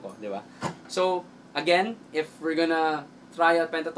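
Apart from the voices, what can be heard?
No everyday noises stand out.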